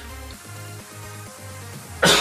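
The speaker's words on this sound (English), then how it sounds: "the cough just is killing me right now" One loud, harsh cough bursts out close by at the very end, after a couple of seconds of quiet, steady background sound.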